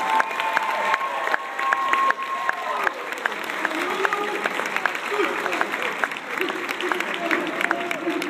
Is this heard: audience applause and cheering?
yes